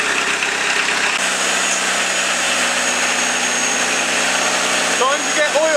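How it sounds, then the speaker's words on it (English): A Ford Transit engine cranked over without starting so the turbo oil feed can be checked, giving a steady, loud mechanical whirr that holds evenly for several seconds with a brief squeaky chirp near the end. "We're just going to motor it over now to make sure we get oil out that return to prove that that oil feed is working."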